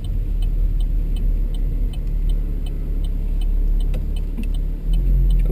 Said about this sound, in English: I'm gonna take the car out for a spin now